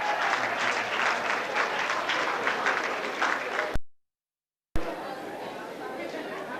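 An audience at a worship gathering claps in a soft, steady wash of applause. Voices chatter beneath it, and the sound cuts out completely for about a second before resuming.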